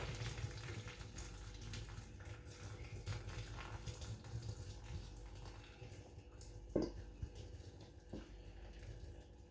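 A cooked hawthorn mixture for foraged hawthorn ketchup is poured through a muslin mesh bag, giving a steady soft wet pouring and trickling sound up close, with one brief knock partway through.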